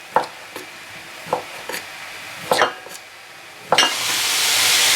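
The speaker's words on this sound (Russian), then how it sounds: "У грибов выпарился сок весь, и они начинают уже поджариваться." Mushrooms sizzle steadily in a pan, their juice cooked off as they start to brown, while a utensil scrapes and stirs in irregular strokes, ending in a louder, hissing burst of frying.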